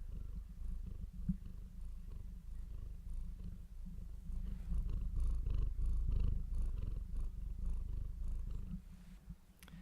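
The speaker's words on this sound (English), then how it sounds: "Did you like that purr? I felt like Misha needed to make an appearance." A pet cat named Misha purrs close up, a steady, soft rhythmic rumble of repeated breaths lasting throughout, with no other sounds.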